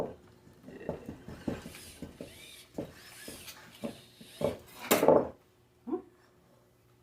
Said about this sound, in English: pound the flour and the butter